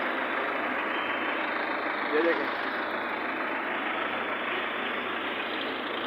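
A truck loaded with sugarcane rumbles past on a bypass in cold, windy weather, its engine noise a loud, steady broadband roar over several seconds, with someone speaking briefly over it.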